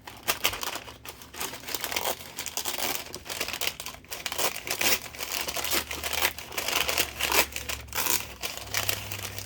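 Parchment paper crinkles and ruffles by hand in steady, close crackling bursts with sharp crisp snaps scattered throughout, moderately quiet, with no voices.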